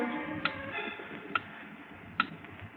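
A time bomb's clock mechanism ticks in a radio drama aboard a ship loaded with rifle cases, giving three sharp, evenly spaced ticks over a low, murky background with no voices.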